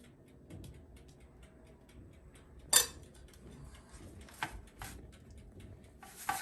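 A knife cuts through a still-warm eggless Eid cookie, giving faint scraping and a few sharp clicks against a plate, with one louder clack near the middle and quiet background in between.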